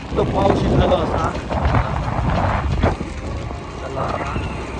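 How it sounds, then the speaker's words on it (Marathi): Heavy rain with thunder heard from indoors, with a dense, steady downpour and low rumbling, while people talk throughout. "पाऊस पण येतात."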